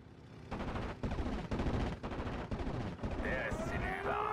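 Bf 109 fighter strafing with machine guns in the World War II strategy game Steel Division: Normandy 44, a loud, dense rattle of gunfire in sustained bursts, with engine and battle noise swelling toward the end.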